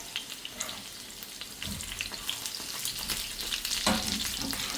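Crispy chicken bites fry in a pan with a soft, continuous sizzle, punctuated by occasional light scrapes and taps as the pieces are moved and turned.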